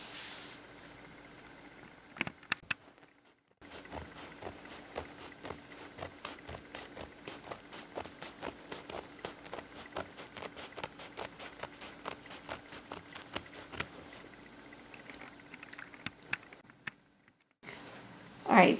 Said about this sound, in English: I'm going to grab some scissors and I'm going to cut this